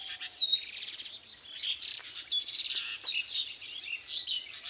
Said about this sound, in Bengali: পাখিদের কিচিরমিচির শব্দ, গাছে গাছে পাখি ডাকছে।